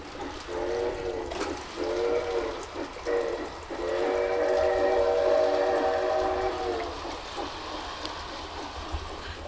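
A model train runs a track loop with a warbling whistle sounding in several sustained blasts over a steady rolling hum, moderately close, with no talking.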